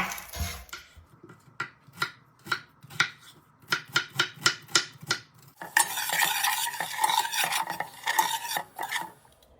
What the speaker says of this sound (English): Go ahead and chop up your onion.